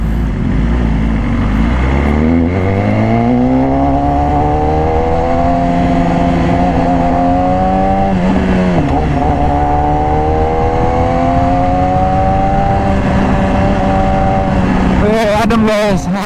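A 2018 BMW S1000RR in Racing Red with an Austin Racing exhaust pulls away from a green light, its loud engine revving up through the gears in long rising sweeps, with a brief shift break and a rider talking over it.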